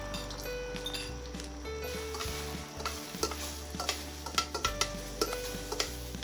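Eggs scrambled in hot oil in a wok on high heat, a soft sizzle under frequent quick scraping and tapping stirs of a utensil against the pan, fairly quiet and close.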